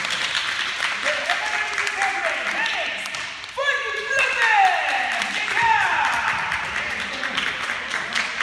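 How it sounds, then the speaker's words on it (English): Parents and guests at a black belt test ceremony clap in a continuous round of applause, heard under a voice that speaks over the start with a few sharp squeaks mixed in. "Parents and guests here today, a big round of applause for our new black belts."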